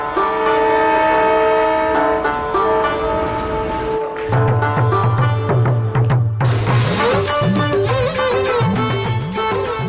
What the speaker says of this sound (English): At NJP Junction, at the bottom of the hill, the intercity Darjeeling Mail arrives from Calcutta.